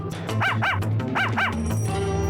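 A cartoonish dog barks several times in quick pairs within an Ace Attorney: Spirit of Justice game scene, loud and close over a steady background music bed.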